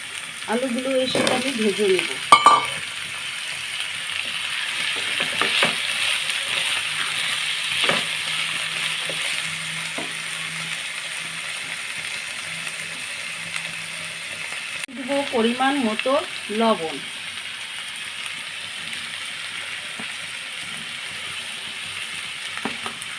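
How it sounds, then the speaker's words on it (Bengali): Chicken and potatoes fry in a pan under a steady sizzle, with occasional utensil clicks and scrapes as they are stirred; a voice speaks briefly near the start and again midway. "সব দিয়ে দেবো দিয়ে ভালো করে নেড়ে চেড়ে কষিয়ে লাল লাল করে ভেজে নেব"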